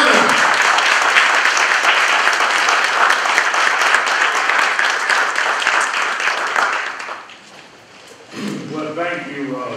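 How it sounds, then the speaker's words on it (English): Audience at a Miles College event applauds loudly and steadily in a dense, sustained wash of clapping that fades toward the end as a voice begins speaking. "will you please stand and give a round of applause"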